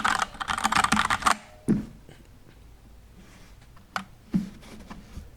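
Keystrokes on a Keychron K2 aluminium mechanical keyboard with tactile Gateron Brown switches: a dense, rapid burst of clacking typing up front, then a few isolated, separated key presses after a quiet gap.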